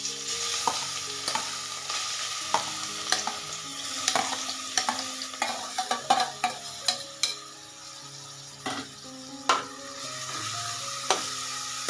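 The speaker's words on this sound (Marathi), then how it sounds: "आता शिजलेले जे गाजर आहे ना ते टाकून घेऊया आपण" Cooked carrots frying and sizzling in hot ghee for carrot halwa, with a steady close sizzle broken by repeated scraping and clinking stirs of a utensil against the pan; no voices.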